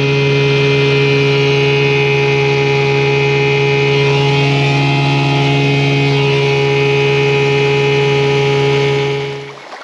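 A small hunting boat's engine runs steadily on the water after a leak repair, a strong droning hum with a pronounced low tone that holds close and loud, then cuts off abruptly near the end.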